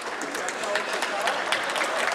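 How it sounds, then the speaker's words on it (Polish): Applause from an audience at a Polish political speech, a steady spread of clapping that holds at a moderate level throughout with no voice over it. "Oklaski."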